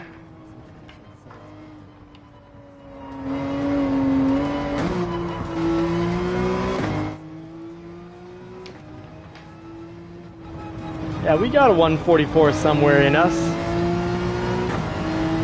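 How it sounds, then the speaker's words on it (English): Porsche 911 engine in a Gran Turismo 7 race, revving up and down through gear changes, with a rising wail and a burst of tire squeal later on, while someone talks over it. "Yeah, the revs are music. The 911 sounds great."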